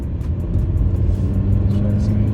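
A Honda Civic engine held at a steady high rev around 4,000 RPM, droning loud and close with a dense, constant rumble throughout, no talk over it.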